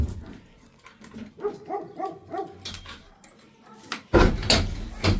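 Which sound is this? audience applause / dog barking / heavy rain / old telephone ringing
dog barking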